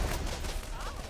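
Gunshots from the video game Borderlands crackle in a dense, noisy burst of rapid fire, with a voice briefly heard underneath.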